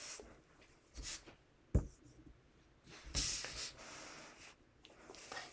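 Paper for an origami model being slowly ripped apart by hand, heard as quiet, intermittent tearing and rustling bursts, faint and close.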